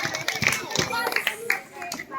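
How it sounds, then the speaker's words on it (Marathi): Applause for the first-place team in a quiz competition's final round: scattered, uneven claps from a small group, with voices mixed in. "त्याबद्दल सर्वांनी जोरदार टाळ्या या ठिकाणी रमाबाई या गटाचं कौतुक करायचं आहे"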